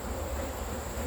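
Honeybees buzz steadily around an opened hive, a continuous close hum with no breaks and no voices.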